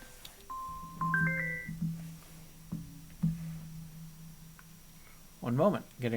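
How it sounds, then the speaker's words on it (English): Phone ringtone signalling an incoming call, a few short melodic tonal bursts at moderate level, followed by a louder rising warble near the end, with quiet background and no speech. "One moment, getting a phone call."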